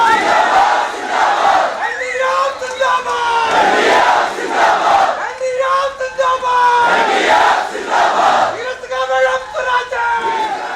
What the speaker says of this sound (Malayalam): അതോടെ ജനക്കൂട്ടം ഇളകിമറിഞ്ഞു